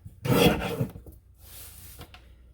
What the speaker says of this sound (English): Now let's rotate this piece and trim horizontally at 11 1/4